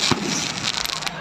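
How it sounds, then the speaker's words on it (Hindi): Firecrackers go off at a fireworks fair on a ground near Golpahadi, Parsudih, Jamshedpur, East Singhbhum, a quick burst of sharp crackles and pops under crowd noise and nearby talk. "और ये जो पटाखे का जो प्रदर्शन हो रही है वो मैदान के अंदर में हो रही है"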